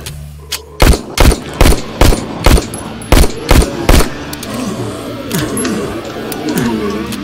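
Video game gunfire rings out as a run of about eight loud, evenly spaced shots, followed by a stretch of lower, rumbling game sound.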